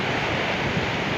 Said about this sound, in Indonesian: nanti gelombang laut di pantai Klatak